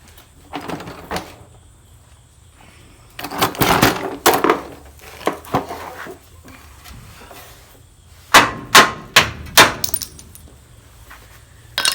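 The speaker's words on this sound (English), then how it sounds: "Let me go get a hammer so I can beat that out." Several sharp metallic bangs ring out in a quick series, hammer strikes knocking a part out of a VW Bus engine during removal, amid scattered clanks and handling noises nearby.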